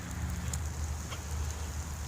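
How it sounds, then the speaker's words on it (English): Steady rain patters outside in a quiet, green residential neighborhood on a cool day, a soft, even hiss of falling drops with faint occasional taps. "It's raining."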